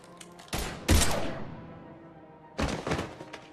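Gunfire erupts in Mass Effect 3 as sharp, loud bursts of shots ring out, with a heavy blast that decays into a fading echo before another cluster of shots.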